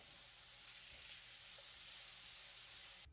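Chopped onion dropped into hot oil with popped mustard seeds and lentils for a bitter gourd poriyal, giving a steady soft sizzle with faint crackles, quiet and close, no voices.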